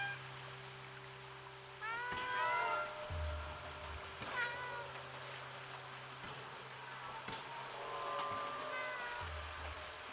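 A cat meows several times in the video game Stray, short, rising calls over a low electronic hum and soft background noise.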